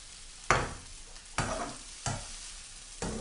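Egg sizzles in a frying pan, with four scraping stirs or flips at regular intervals over a soft background crackle.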